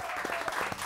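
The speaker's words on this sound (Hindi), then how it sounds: "इनके लिए बहुत सारी तालियां" Brief, loud audience applause on a morning television show, dense clapping from a studio crowd with a faint voice mixed underneath.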